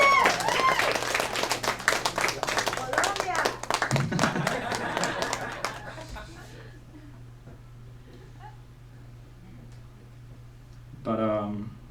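A full crowd at a stand-up comedy show at the Hollywood Improv breaks into dense clapping and applause that fades after several seconds. A comic talks over it, and a brief burst of laughter and clapping returns near the end.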